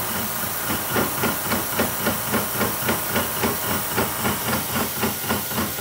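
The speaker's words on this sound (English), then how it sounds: "slitting saws never run concentric. They're always a little lumpy." A slitting saw cutting metal on a machine at slow feed, giving a steady grinding hiss with a regular lumpy pulse from the saw running out of true, loud and continuous.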